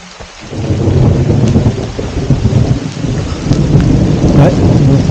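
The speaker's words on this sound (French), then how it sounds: "Ouais, on entend l'orage." A heavy thunderstorm on a mountain trail, with dense rain falling close by and deep, rolling thunder rumbling continuously and loudly throughout, without speech.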